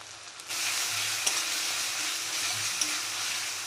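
Ginger-garlic paste and softened tomato sizzle steadily in a pan for a fish kalia. The broad frying hiss stays even from start to finish, with a couple of brief stirring clicks and no talking.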